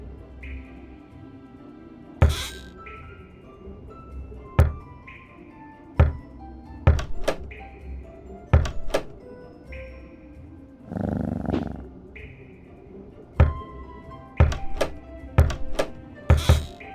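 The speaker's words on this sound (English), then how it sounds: "Knock on the correct door, then move Puss into the next room." Several sharp knocks on a door in a Puss in Boots interactive storybook game land at uneven intervals over a quiet musical background, each a short, hollow thump followed by silence.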